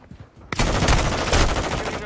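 Rapid automatic gunfire from a first-person shooter video game starts abruptly after a quiet moment and continues as loud, dense bursts of shots.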